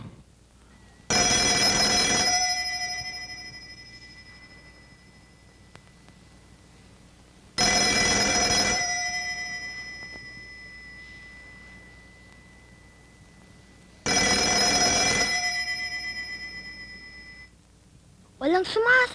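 A telephone rings unanswered in the early morning hours, three long bright bell-like rings separated by several seconds of near silence, close and loud, with a faint brief sound creeping in at the very end.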